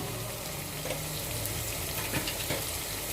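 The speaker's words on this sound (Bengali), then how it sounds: "সবগুলো একসাথে কষিয়ে নেব।" Ground coriander, cumin and other spices frying together in a pan for a liver bhuna, a dense, even hiss of sizzling that holds steady throughout, close and moderately quiet.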